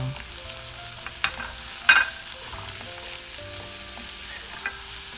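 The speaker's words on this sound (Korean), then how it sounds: "이번엔 양파를 넣어 함께 볶아주세요." Onion stir-fried in a pan for omurice, a steady sizzle with occasional scraping stirs and a spatula tap, close and continuous with no talking.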